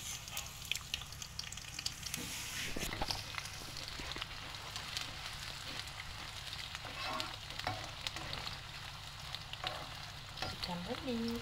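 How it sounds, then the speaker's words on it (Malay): Anchovies sizzle and crackle steadily in hot oil, with occasional stirring scrapes, fairly quiet and close, with no talking. "Sekarang dia nak goreng ikan bilis."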